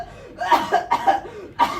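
Harsh coughing spasm from a man, three or four rough bursts in quick succession, close and loud with brief pauses between.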